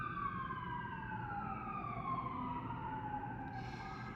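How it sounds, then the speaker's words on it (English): A wailing siren sweeps slowly downward in pitch, loud and steady, with traffic rumble underneath and a brief hiss near the end. "I hear the sirens"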